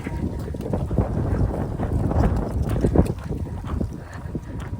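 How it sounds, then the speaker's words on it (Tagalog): Strong outdoor wind in Michigan buffets the microphone with continuous low roaring rumble and gusty surges, steady throughout without speech. "Sobrang mahangin."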